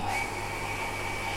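A water pump runs with a steady mechanical hum, constant low drone and tonal whine, continuous and fairly close, with no talking.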